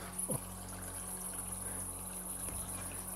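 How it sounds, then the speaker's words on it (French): A small stream spills between rocks underfoot near a wooden footbridge in the ruined village of Rochecolombe. It makes a steady, faint trickle with no voices. "Il y a un petit ruisseau là qui se déverse sous mes pieds entre les rochers."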